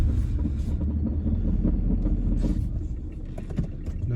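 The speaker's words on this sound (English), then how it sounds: "this is a front wheel drive vehicle, so let's give it another shot." A front-wheel-drive car on an icy mountain road near a ski area, its engine rumbling loud and low as it labors continuously, with scuffs and knocks mixed in.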